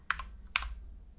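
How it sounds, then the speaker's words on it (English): Computer keyboard keys tapped while entering a card code, two quick pairs of close clicks within about a second, quiet and without talk. "So what I'm going to do is I'm going to type in BT1-081."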